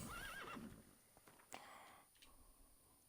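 Roach, Geralt's horse in the video game Witcher 3, gives a short clear whinny, followed by faint hoof clip-clops and quiet game ambience.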